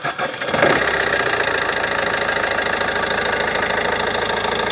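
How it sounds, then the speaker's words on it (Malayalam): A 2017 Suzuki Ciaz with a 1.3-litre DDiS diesel engine cranks briefly, catches, then settles into a steady, loud, even clattering idle. "ഈ ഒരു വെഹിക്കിളിൻ്റെ സ്റ്റാർട്ടിംഗ് സൗണ്ട് നമുക്ക് നോക്കാം."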